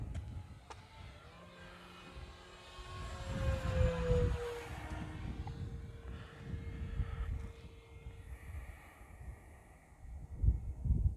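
A Dynam T-28 Trojan 1.3m RC model plane on 4S power passes at full throttle with a whining motor drone that rises and falls in pitch as it flies by, swelling loud then fading, against open-air wind.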